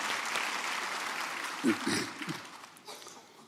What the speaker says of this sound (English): Can we give an applause to our sign language interpreter, Mr. Anwen?